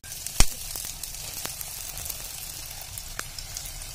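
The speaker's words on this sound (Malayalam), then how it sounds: "ഓയിൽ ചൂടായിട്ടുണ്ട്. ഇനി ഇതിലേക്ക് ഓരോന്നായിട്ട് സമോസ ഇട്ട് കൊടുക്കാം." Beef samosas sizzle steadily in hot oil, a constant fine crackle with a sharp splash-like pop near the start and a few scattered spits after.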